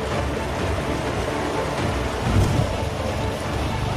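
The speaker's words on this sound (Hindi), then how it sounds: "3 दिनों से लगातार बारिश हो रही है" Steady, dense rain pours over a flooded village in Bihar, a continuous close hiss with a brief heavier swell midway and no voices.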